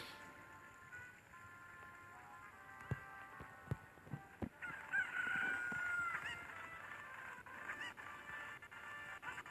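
A Cucco chicken in Zelda: Ocarina of Time crows and clucks in a game scene, with a sustained crow in the middle and sharp clucks and taps before it over a steady background hum.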